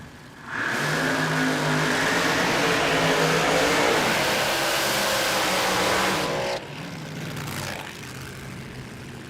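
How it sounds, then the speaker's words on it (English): Side-by-side rear-engine dragsters do burnouts at Willowbank Raceway, a loud roaring blast of engines that swells in, holds for several seconds, then drops off sharply into a quieter fading rumble. "you bet it's side by side, rear engine dragster burnouts."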